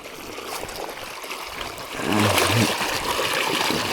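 Irrigation water runs into a wheat field channel in a village. It trickles steadily at first, then swells into a louder, fuller rush about halfway through, with no talking.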